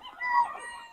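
A Golden Boy line gamecock rooster crows once, close and loud, a single drawn-out call swelling then trailing off within a second.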